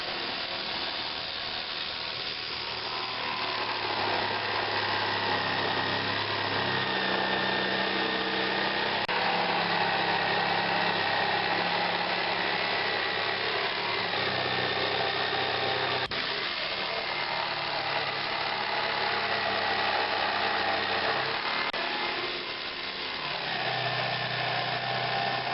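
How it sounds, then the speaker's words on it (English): A jigsaw cuts a round hole through water-damaged flooring, starting from a drilled starter hole; the motor whines steadily and close for the whole stretch, its pitch dipping and rising as the blade works around the curve. "Something to get our jigsaw bit into"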